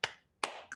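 Short, sharp claps ring out briefly in two quick bursts, close and moderately loud, like a small bit of applause at a talk.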